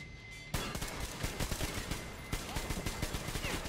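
Rapid gunfire from a weapon in the video game Metro Exodus bursts in after a brief quiet moment, then repeats in dense, sharp shots that come close and loud, with short pauses between volleys.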